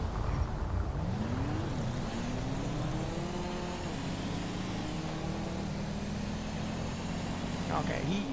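A car engine in the video game LSPDFR revs high and steadily, its pitch climbing and dipping in smooth sweeps over a constant rumble and wind-like noise.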